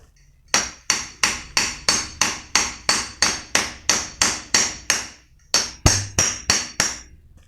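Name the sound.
hammering a bearing into place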